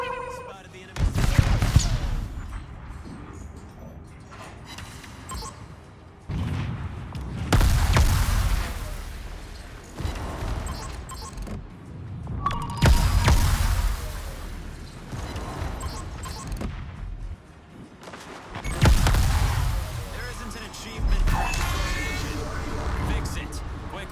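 Heavy warship cannon blasts in World of Warships boom out every few seconds, each with a rolling rumble, while a person talks over them.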